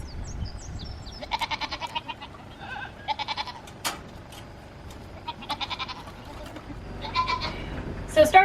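A dairy goat bleats repeatedly on a milking stand, short nasal cries coming in bursts over steady low background noise, close and fairly loud.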